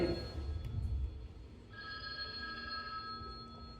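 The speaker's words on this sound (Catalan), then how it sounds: "Però espereu que tinc una trucada també." A telephone rings for an incoming call, sharp electronic tones sounding alone at moderate distance, with a low rumble at the start giving way to a sustained ring.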